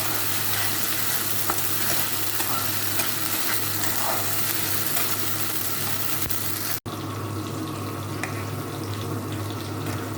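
Whole cumin seeds, a bay leaf and split green chillies sizzle and crackle steadily in hot oil, a close, continuous frying hiss with light stirring and a brief drop near the end; no one speaks.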